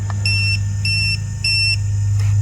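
An Arrma Fury RC car gives three even, high electronic beeps, then a short fourth blip, over a steady low hum, with no talk.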